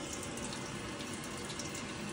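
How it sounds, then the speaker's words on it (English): A hot water tap runs steadily at a home with a Worcester Bosch boiler, giving a continuous, fairly faint rushing flow of water into a sink with no talk. "now I'm going to open the hot tap."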